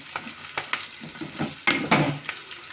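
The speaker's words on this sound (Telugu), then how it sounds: "ఇవన్నీ కలుపుకొని బాగా ఫ్రై అవ్వాలండి" Masala ivy gourd stir-fried with a little tamarind in a pan, giving a sizzling hiss broken by repeated scraping stirs, close and moderately loud, with no talking.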